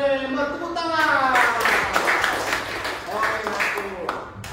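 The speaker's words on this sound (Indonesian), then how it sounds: "Tepuk tangan buat Nadia" A classroom breaks into scattered applause for Nadia, the clapping running for a few seconds beneath a voice talking over it.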